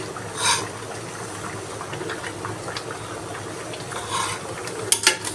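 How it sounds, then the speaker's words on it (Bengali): An egg frying in a pan, heard as a low, steady sizzle close by, with a few scrapes and metallic knocks of a utensil against the pan and no talking. "তাই আমি ডিমটা ভেজে নিচ্ছি"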